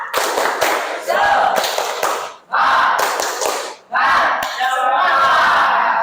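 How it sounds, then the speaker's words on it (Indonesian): A classroom group performs a rhythmic spirit clap, bursts of many hands clapping in patterned rounds with brief pauses between, mixed with shouted group chanting. "Tepuk semangat ya. Biar semangat."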